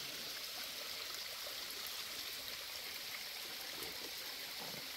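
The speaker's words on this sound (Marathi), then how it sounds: "ह्या वॉटरफॉलमधून जे काही थोडंसं झऱ्यासारखं पाणी वाहत आहे" A small stream of water flows from a waterfall with a faint, steady rushing trickle, heard alone and slightly distant.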